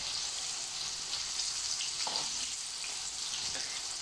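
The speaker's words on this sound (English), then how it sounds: "Zucchini fry." Zucchini dusted with a little flour fries in a pan with a steady, bright sizzle and a few soft stirring bumps. No one speaks.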